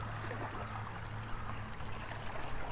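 Water pours steadily out of a pipe at an archaeological site, a continuous rushing trickle at low level with a constant low hum underneath and no talk.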